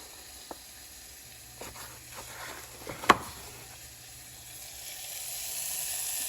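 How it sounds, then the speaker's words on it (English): Cage-free brown eggs frying give a quiet, soft sizzle that swells slowly toward the end, broken by a few faint clicks and taps, including one sharper knock near the middle. "We're going to fry a couple eggs up as well."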